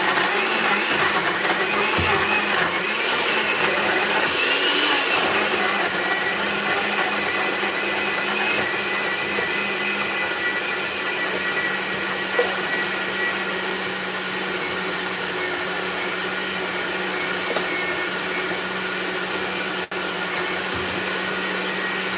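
A blender whirs steadily while making a smoothie, a loud continuous motor drone that holds for about twenty seconds with little change in pitch, alone without talk.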